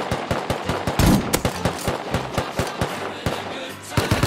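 Rapid bursts of automatic gunfire crackle through a video game firefight, sharp repeated shots spaced irregularly over a steady layer of in-game noise, loud and close.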